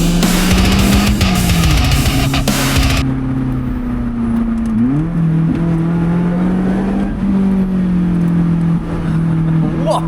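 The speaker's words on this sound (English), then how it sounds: "This is how it looks like driving in a convoy and what it feels like." A Lotus Elise sports car drives in a convoy on Austrian roads. Its engine drones steadily close by, the pitch dipping and climbing through gear changes, with loud wind and road rush at first that then eases off.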